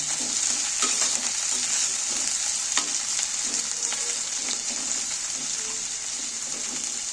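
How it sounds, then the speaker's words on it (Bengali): Two hundred grams of chopped onions sizzle steadily in hot oil in a pan, a close, continuous frying hiss with faint scrapes as they are stirred, and no voices. "পেঁয়াজগুলো আমি নাড়াচাড়া করে একটু ভেজে নেব"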